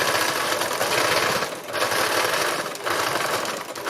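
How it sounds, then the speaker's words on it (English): A sewing machine runs fast while doing free machine embroidery on fabric, a loud, close, rapid mechanical chatter in two long bursts with brief slowdowns between them, and no talking. "So this is me doing free machine embroidery."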